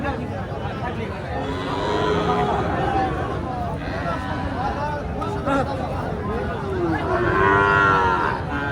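Sahiwal and local calves moo repeatedly at a busy cattle market, long drawn-out calls rising and falling over a constant murmur of crowd noise and talk.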